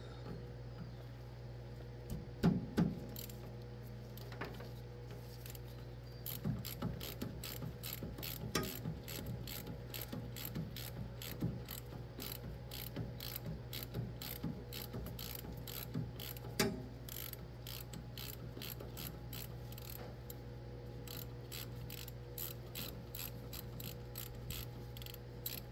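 A ratchet loosens a 12mm bolt on a 2005 Toyota Tacoma, clicking in rapid rhythmic bursts with pauses between strokes. The clicks are close and fairly quiet, over a steady low background hum, with no talking.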